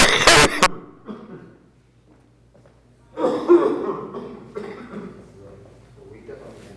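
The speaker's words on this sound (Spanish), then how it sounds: "Le dio un ataque de tos al hombre." A man breaks into a coughing fit in a televised debate studio, a sharp loud burst at first, then rougher bouts of coughing and throat noise after a short lull.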